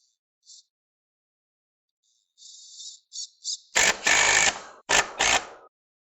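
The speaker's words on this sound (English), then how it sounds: "I'm going to screw it in up at the front." Close, fairly quiet mechanical whirring and ratcheting as a screw is driven into a rafter at the ridge board, with a few short bursts early on and then two louder sustained drives near the end.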